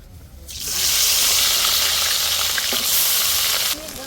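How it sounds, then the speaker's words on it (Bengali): Onion paste hitting hot oil with whole garam masala and a bay leaf in a pan after fish frying, erupting into a loud, continuous sizzle that holds for several seconds then drops back. "গোটা গরম মশলা আর একটা তেজপাতা। প্রথমে দিচ্ছি বাটা, পেঁয়াজ বাটাটা।"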